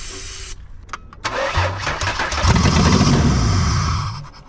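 A 2004 Ford Ranger Tremor rescued from the scrapyard cranks briefly and catches, then settles into a loud, steady running engine close by.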